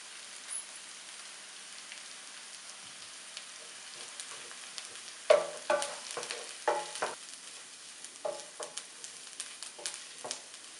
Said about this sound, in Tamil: தேங்காய் போட்டு கொஞ்சம் வதங்கினா போதும்.